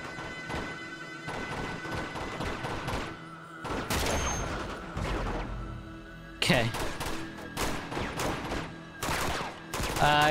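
Sniper gunfire in Uncharted 2: Among Thieves: repeated sharp gunshots crack in bursts and volleys during a firefight, with thuds and impacts between them and a voice talking over the action.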